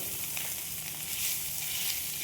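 Mashed potato sits in a pan of fried onions and green chillies, giving a steady, even hiss of sizzling oil that stays close and unbroken, with no talk.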